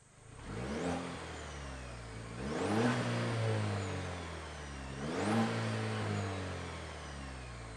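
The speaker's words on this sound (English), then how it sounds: "let's fire up the ZR2 Desert Boss and hear what kind of noise it makes." A 2023 Chevy Colorado ZR2 Desert Boss engine revs three times, each rising in a swelling whine before settling back to a steady mid-pitched idle, heard close and alone.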